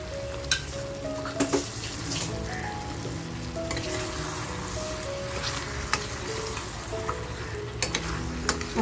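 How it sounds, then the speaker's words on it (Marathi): Green chillies and mutton fat sizzle steadily in a hot pan over a full flame, a continuous close frying hiss with occasional stirring clicks and scrapes. "त्या मिरच्या टाकून घेते आणि चरबी घेतली आहे ती आता मी चरबीसुद्धा ह्याच्यामध्ये टाकून घेणार आहे."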